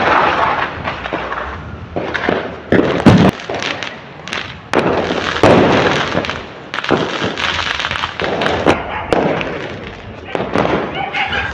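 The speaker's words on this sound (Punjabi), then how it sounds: "ਸਾਰੇ ਪਾਸੇ ਜਿਹੜੇ ਗੂੰਜਾ ਪਟਾਕਿਆਂ ਦੀਆਂ" Diwali and Bandi Chhor Divas firecrackers at about 8 pm, with bangs and crackles echoing from all directions. The bursts come in dense, overlapping volleys, loud and continuous throughout.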